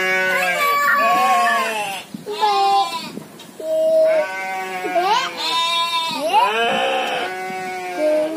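Goats in a pen beside a rice field bleat loudly and close by, several animals calling one after another in wavering, overlapping cries throughout.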